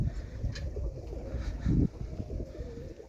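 Young roller pigeons coo softly in a loft, low throaty murmurs with a brief fluttery burst midway, close and alone amid faint background rustle.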